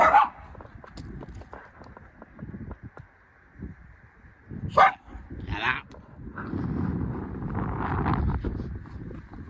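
A dog barks a few times in short bursts, close by, with wind buffeting the microphone and some rustling in between.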